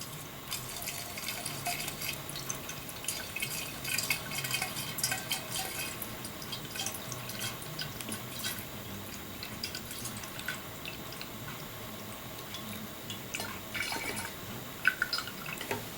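Rubbing alcohol mixed with wintergreen oil poured over dried herbs for a homemade liniment, a steady trickling, dripping liquid sound running continuously at moderate level with no talk.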